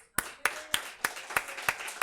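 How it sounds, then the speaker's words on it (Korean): Church congregation clapping in unison during a Sunday morning worship service, seven or eight sharp, evenly spaced claps ringing out in a steady rhythm with a little room echo and no voices. "영광이 주님께 박수"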